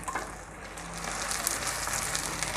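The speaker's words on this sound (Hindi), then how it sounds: "और इसको भी हम फ्राई करेंगे" Minced mutton sizzles steadily in a hot karahi with onions, a dense, even crackle of frying that holds close and constant without any talk.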